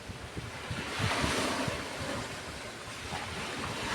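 Seaside wind buffets the microphone while waves wash and break on the shore, a loud continuous rush that swells and eases with the surf, with no voices.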